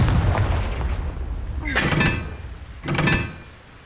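Two loud Confringo spell explosions from the Hogwarts Legacy video game on PS5, each a sharp broadband burst about a second apart, over a low rumbling game background with no talk.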